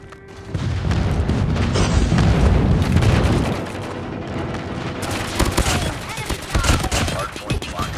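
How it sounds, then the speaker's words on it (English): Friendly airstrike in a multiplayer shooter video game: a loud burst of rapid booms and crackling blasts, followed by continuing gunfire and explosions in a busy battle mix. "Friendly airstrike incoming"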